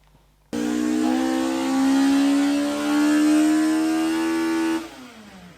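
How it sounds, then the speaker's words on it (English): A Ferrari engine starts abruptly and revs loudly up and down for about four seconds in a steady high-pitched wail before cutting off, heard close with no talking. "Just a Ferrari."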